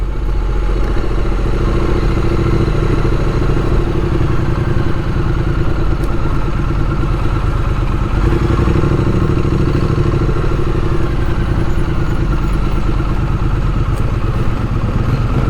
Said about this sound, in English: he's gonna do wheelies on a big old utility 4-wheeler